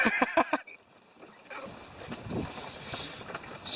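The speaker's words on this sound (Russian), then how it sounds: "Сегодня у нас стоит лютый ветер" Strong, fierce wind blows outdoors beside a homemade catamaran built from plastic bottles, a steady broad rushing roar buffeting the microphone, rising and gusting in the second half after a few brief knocking sounds at the start; no talk.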